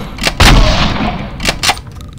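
Loud, close gunshots from a handgun in a Resident Evil game, two or three sharp blasts spaced about a second apart, each with a short booming tail, and no talking over them.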